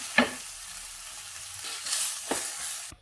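Spring onion stalks sautéing with salt in a pan, a soft low sizzle with a few clacks of a spatula stirring, ending abruptly.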